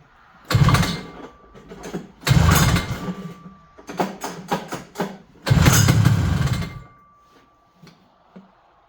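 A vintage Yamaha GP 440 engine trying to run: several loud sputtering bursts of firing and revving that catch and cut out, with gaps of near silence between them, close by and without talk.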